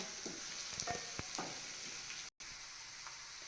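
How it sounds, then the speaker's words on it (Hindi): Soft, steady sizzling of garlic frying in oil over medium heat, with occasional scraping taps of a spoon stirring the pan. "ध्यान रहे तेल ज़्यादा गर्म नहीं रहे और इसको अच्छे से हिलाते रहना है ताकि लहसुन जले नहीं।"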